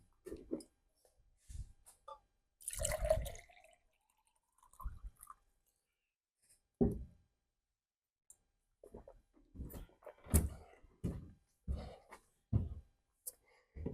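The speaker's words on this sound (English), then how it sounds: "I will have some water." Water is poured and sipped in short separate bursts of splashing and gulps during a pause in a science lecture, close and fairly quiet, with silent gaps between the sounds.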